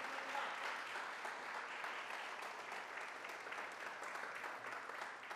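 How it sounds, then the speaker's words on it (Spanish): A church congregation applauds during a Spanish-language Sunday sermon, sustained even clapping from many hands heard at moderate distance with a faint low hum beneath. "¡Aplaude al Rey de Gloria!"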